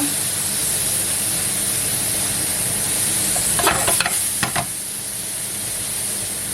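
Caramelised apple mixture with cinnamon, for apple crêpes, sizzles steadily in a pan while a utensil stirs it, with a few sharper scraping strokes partway through; near and fairly loud, no voices.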